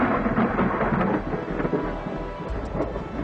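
Deep rolling thunder from an approaching lightning storm rumbles steadily for several seconds, loud and broad, with a faint hiss of rain beneath and no voices.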